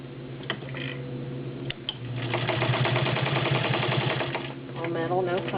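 A Rolls Class 15 clone straight-stitch sewing machine, all metal, stitches through ten layers of cotton with a rapid mechanical ticking and whirring that speeds up in the middle, while someone's voice appears faintly alongside it.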